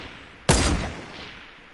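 A single AK-47 assault rifle shot in a video game: one sharp, loud report with a short decaying tail, heard alone.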